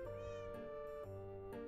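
A cat meows several times in quick succession, each call drawn out and tonal, soft and close, with nothing else sounding around it.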